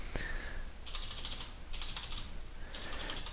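Computer keyboard typing comes in three quick bursts of crisp, rapid key clicks, close up with short pauses between them, while text is entered in Blender.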